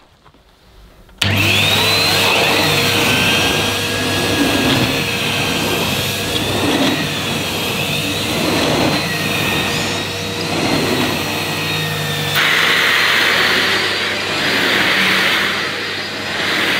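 A Hetty vacuum cleaner with a turbo head runs loud and steady on Saxony carpet, starting up after a second of quiet, with a whining motor note and rhythmic swells as the head is pushed back and forth.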